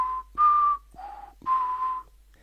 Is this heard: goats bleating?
no